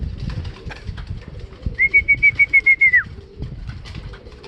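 Pigeons coming down to land in bad weather, a rapid run of about a dozen wingbeat flaps close by over gusty rumbling background, joined by a thin high whistle.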